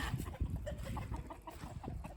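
Faint, irregular clucking from several chickens, low and muffled at a short distance.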